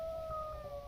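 Orphaned wolf puppies in the video game Minecraft give a thin, steady, high-pitched whine that wavers slightly, faint and sustained for under a second.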